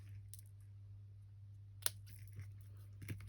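Scissors snip card by hand in a quiet room, a few faint, brief cuts with one sharper snip partway through.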